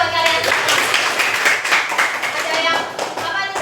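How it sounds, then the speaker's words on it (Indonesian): A class of high school students claps together, a dense burst of close, loud, rapid hand claps that runs throughout, with voices mixed in. "Ya, tepuk tangan buat kalian."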